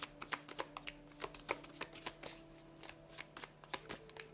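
Tarot cards are shuffled by hand, a quick series of crisp riffling flicks and taps at close range, fairly quiet and uneven in rhythm.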